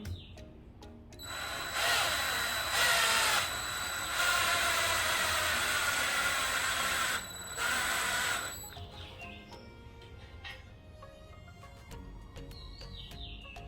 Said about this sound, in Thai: เดี๋ยวเราจะเอาน็อตมาไข ใส่เข้าไปใส่กับตัวยึด